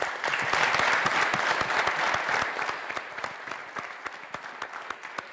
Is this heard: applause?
yes